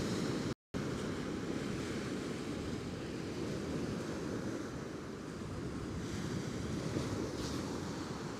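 Strong wind of about 20 miles an hour on the beach at Coney Island, New York City, roars steadily into the microphone, a loud continuous rumbling buffet with surf washing faintly beneath it, and no voices.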